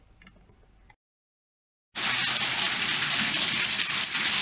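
Water rushes loudly and steadily through a turbine test rig whose exit is partly blocked, starting suddenly after a short silence and continuing as a dense, close gush; no voices.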